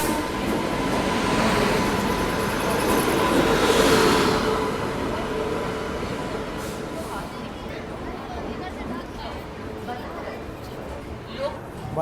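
A passenger train on the Varanasi to New Delhi route rolls along with a loud, continuous rumble heard from on board, swelling briefly then settling into a steady wash of wheel and carriage noise.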